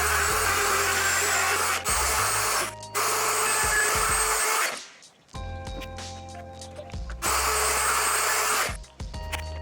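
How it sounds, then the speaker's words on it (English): A router on a router table cuts a guitar body's neck pocket along a template, making a loud, steady whining roar in long bursts separated by short pauses and one longer quiet gap. "route out this neck pocket to match the mistake I made with the neck pocket already there"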